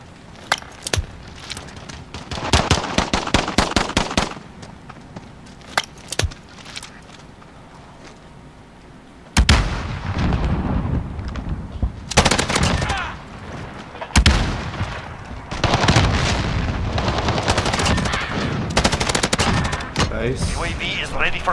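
A Bruen Mk9 light machine gun firing in Modern Warfare, with loud bursts of rapid automatic fire, some single booming shots and a long sustained stretch of gunfire, while someone talks at times.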